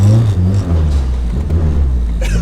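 A car with a KA24DET engine drones loudly and continuously on a dyno, a steady low rumble with a slight rise near the end, heard close up.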